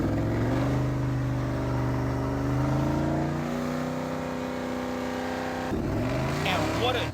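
An LS V8-powered mega golf cart drives off, its engine droning loudly and climbing in pitch, then dropping and revving up again, with speech heard over the engine.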